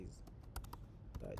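Rapid clattering keystrokes on a computer keyboard while fixing a Java hello world file, sharp close clicks coming in short irregular bursts with a few louder key hits.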